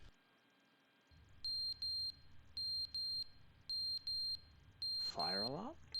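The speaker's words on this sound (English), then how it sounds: "Fire alarm?" A fire alarm in The Stanley Parable sounds a high electronic beep in quick pairs, repeating at a steady rhythm over a low room hum. A voice comes in near the end.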